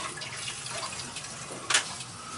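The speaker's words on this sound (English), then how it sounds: "So the water's coming up the supply." Water flowing through the supply pipes of a home heating system, a steady faint hiss and rush with a short louder gurgle near the end.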